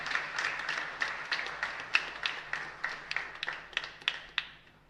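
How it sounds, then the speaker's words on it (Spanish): A small congregation at a novena Mass in the San Blas chapel in Valle Puku, Areguá, claps in scattered, distinct strikes, moderately faint and gradually thinning out toward the end. "También un fuerte y caluroso aplauso para ustedes."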